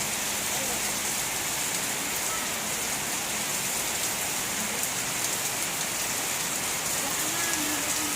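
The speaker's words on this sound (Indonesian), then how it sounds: "Hujan melanda kampung satu." Heavy rain pours steadily in a village neighbourhood of Tarakan, a dense, unbroken hiss of drops on surfaces with strong wind behind it, loud and constant throughout, without clear talk.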